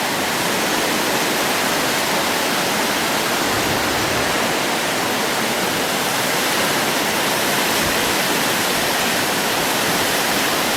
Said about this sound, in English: That's moving very quickly, that water, I can assure you.